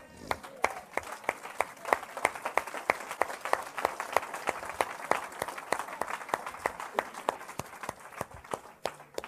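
A church congregation applauding, a dense run of fairly even claps from a group at moderate distance, with some crowd voices mixed in under the clapping.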